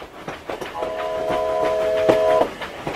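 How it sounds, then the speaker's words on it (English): A cartoon train approaches a rail crossing, its horn sounding a steady sustained chord over rhythmic wheel clatter, fairly loud and close, with a crossing bell-like ticking underneath. "See? Steve the train is approaching the rail crossing."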